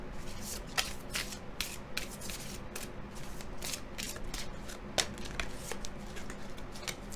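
Oracle cards are shuffled continuously by hand, a soft papery riffling with repeated sharp flicks and snaps close by, steady throughout with no talk.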